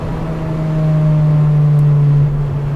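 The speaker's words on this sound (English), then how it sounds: "I love the chaotic sound of VTEC" An Acura RSX VTEC engine, track-focused with about 250 horsepower, drones loudly inside a tunnel, its steady deep hum rising slightly in pitch and then dropping near the end, heard up close with no talking.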